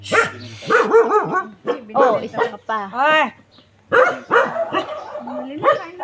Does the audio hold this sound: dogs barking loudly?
yes